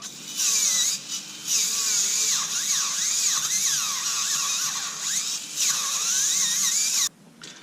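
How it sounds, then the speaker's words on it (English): A rotary barrel polisher ports a Husqvarna 272 chainsaw cylinder with a steady, high-pitched whine whose pitch wavers and dips as it works against the metal, then cuts off abruptly near the end. "Let's see if we can get the polisher in there."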